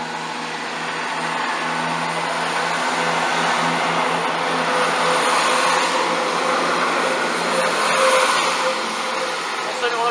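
A Class 170 diesel multiple unit, 170-104, sits at Peterborough station with a steady, loud engine drone and broadband rumble throughout, while people talk nearby.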